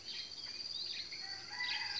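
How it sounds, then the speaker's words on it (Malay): A bird calls outdoors in a few faint, high chirps over soft background hiss, brief and distant. "Burung lah tu."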